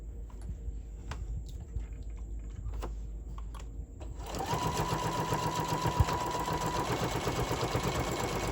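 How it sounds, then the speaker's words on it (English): A sewing machine stitches through interfacing on a zipper pouch, starting with light ticking needle taps and then settling into a steady, louder whirring run. "Now I'm sewing with the interfacing part up, so it's a little bit slippery. My machine is doing okay."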